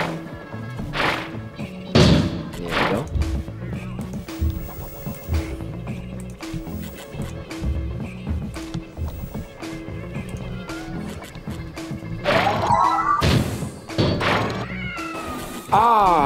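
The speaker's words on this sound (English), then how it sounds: "That is a botched experiment of mine called the Awkward Noise Generator." In the video game Quantum Conundrum, the Awkward Noise Generator gives off a string of odd cat-like meows and yowls mixed with thumps and clattering, loud and continuous over the whole stretch.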